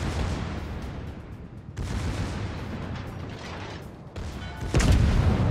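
Battleship Oklahoma's naval guns fire in World of Warships: heavy booming blasts break through a constant rumbling background, with the strongest, deepest report near the end.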